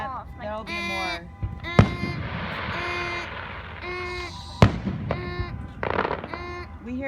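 Fourth of July fireworks boom twice, loud and sharp, about three seconds apart, as people keep talking and a car alarm wails behind them.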